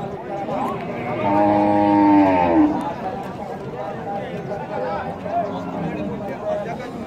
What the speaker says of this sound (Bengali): বিশাল গরু